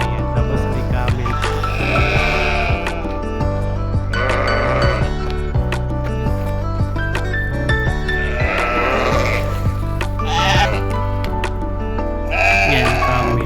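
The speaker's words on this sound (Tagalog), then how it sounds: "Ang ingay-ingay nila oh. Mga tupa na yan." Sheep bleat loudly and repeatedly at a farm in Riyadh, Saudi Arabia, overlapping calls rising and falling close by over a constant low background hum.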